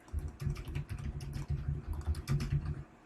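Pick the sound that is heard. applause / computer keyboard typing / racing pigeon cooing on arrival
computer keyboard typing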